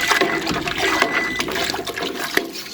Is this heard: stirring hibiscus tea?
yes